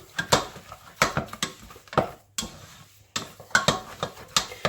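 Repeated scraping and knocking of a utensil against a saucepan, irregular and close, as thick choux pastry dough is stirred and dried out over heat.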